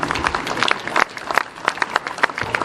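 Audience at a business New Year's event applauding, scattered sharp claps forming a short, moderately loud round of clapping with crowd murmur around it.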